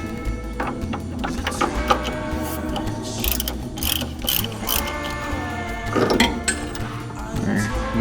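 A ratchet wrench works bolts on the rear subframe of a Mazda RX7 FC, sounding as close, rapid clicking bursts with short pauses and occasional metallic clinks in a garage, with no talk over it.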